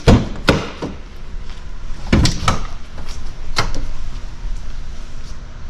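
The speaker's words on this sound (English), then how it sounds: "As we open the rear doors," Rear doors of an off-grid adventure van being opened outdoors, giving several sharp latch clunks and thumps spread across a few seconds over steady background noise, with no talking.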